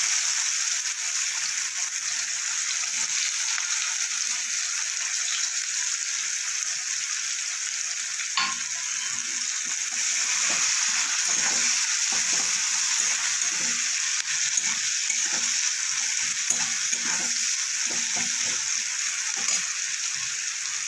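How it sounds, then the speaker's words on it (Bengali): Chopped onion fries in hot oil with black cumin, a steady bright sizzle with faint stirring scrapes underneath, filling the kitchen continuously for about twenty seconds. "এবার দেবো কুচানো পেঁয়াজ"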